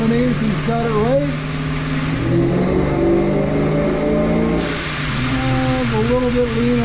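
A 1995 Ford Mustang with bolt-on upgrades revs hard on a chassis dyno, its engine note climbing and falling in steady sweeping pulls, loud and close, with voices talking over it.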